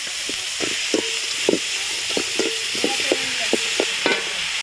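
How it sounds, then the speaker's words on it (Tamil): Tomatoes sautéing in a pan over a wood-fired stove for a village-style tomato chutney: a steady, close sizzle with repeated scraping and clinking stirs at an uneven rhythm, no voices. "இப்போ நம்ம தக்காளி சேர்த்துக்கலாம்"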